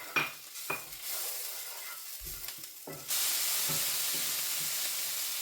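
Spices such as dried coriander and garam masala are stirred into a pan for chicken and mushroom curry; a few spoon knocks and scrapes come first, then a steady frying hiss swells and continues to the end.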